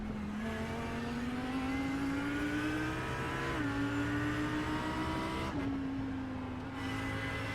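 An Audi GT3 race car accelerating at Road America, its engine note climbing steadily through the gears with short dips at two upshifts, loud and close, under no talk.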